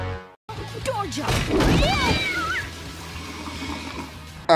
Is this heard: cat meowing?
yes